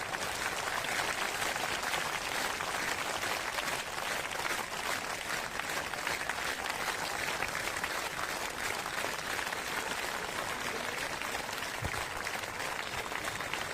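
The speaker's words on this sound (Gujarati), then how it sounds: "એ તાળી તો પાડો।" Audience clapping at a public speech event with devotional chanting: dense, steady applause from a large crowd continues loudly for the whole stretch without pause.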